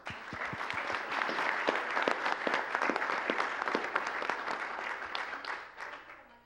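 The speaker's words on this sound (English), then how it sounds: "One more round of applause." An audience at a University of South Florida Peace Corps event breaks into sustained applause, a dense, steady patter of many hands clapping that swells and then fades away.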